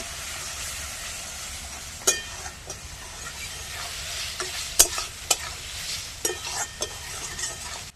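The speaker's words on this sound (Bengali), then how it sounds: "জিরে গুঁড়ো, মশলাটা কষিয়ে নেব।" Spice masala with cumin and turmeric powder frying in a pan, a steady soft sizzle with several sharp scraping stirs of a spatula against the pan, close and alone.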